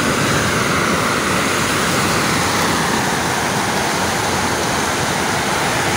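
Rough sea waves churn and crash continuously during a lure fishing trip, a loud, steady broadband roar of surf that fills the whole stretch with no pauses.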